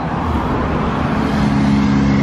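A car drives along a busy weekend road popular with motorcyclists, with a steady, close road roar and engine hum that swells slightly toward the end, and no voices.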